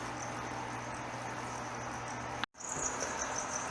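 Steady high-pitched cricket chirping fills the whole stretch, with a brief dropout partway through before the continuous trilling resumes.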